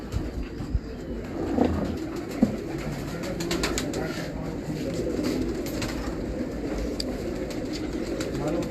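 Pigeons at a pigeon-keeping loft give a steady bed of low cooing throughout, mixed with faint background murmur and a couple of brief knocks, with no clear talk.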